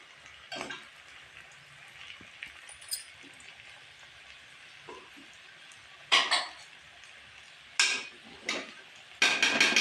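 Cooking egg potato, with sharp metallic clinks and taps of utensils against a pot scattered irregularly, several close bursts clustered near the end over a quiet sizzling background.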